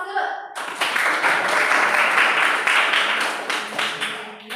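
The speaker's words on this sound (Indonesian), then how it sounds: "Aplaus dulu" A classroom of students breaks into applause during an Arabic lesson: dense, sustained clapping from many hands that starts abruptly and holds steady for several seconds, loud and close, with a few voices mixed in.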